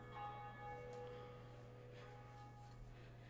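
In the Dark Souls video game, a bell rings with sustained metallic tones that swell and fade over a low steady hum, faint and distant with no talking.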